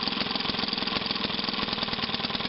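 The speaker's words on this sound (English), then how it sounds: "you can put a little bit of restriction onto the flywheel, and the engine should hit more often, which this one does" A 1937 Maytag model 72 engine runs with restriction on its flywheel, firing in a steady rapid chugging beat with even, frequent hits, loud and close with no voices over it.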